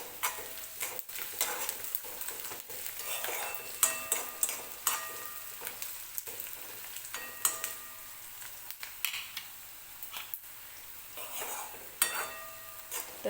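Onion frying in oil for potato bhaji, with a low sizzle under repeated scraping and clinking stirs of a utensil against the pan, close up and irregular, no speech.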